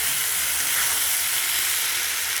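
Spices sizzle and fry in hot oil for a katla fish curry with stems and potatoes, a steady dense hiss filling the whole moment, close and loud with no voices.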